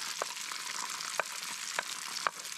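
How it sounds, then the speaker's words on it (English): Eggs frying in a pan for an ancient Roman frittata with peas, garum and wine, a soft steady sizzle with a few light utensil taps, quiet and without talk. "Then we add the eggs and cook until the eggs set."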